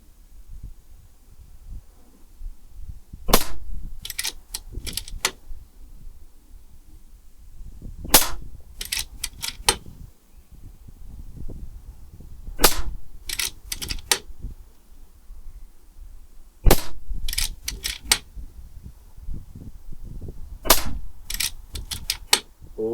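Air rifle firing cheap eco pellets in quick bursts, sharp cracks in clusters of three to five shots with short pauses between groups, close and loud over faint handling noise.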